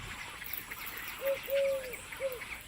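Birds at a breeding colony in partly submerged trees in the Bharatpur wetlands give a few faint, drawn-out calls over steady wetland ambience and hiss.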